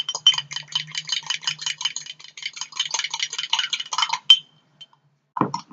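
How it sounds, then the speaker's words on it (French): A fork rapidly beating mug-cake batter inside a mug, a fast run of bright clinking scrapes against the ceramic for about four seconds, close and alone, then a pause and one brief knock. "je prends une fourchette et on mélange"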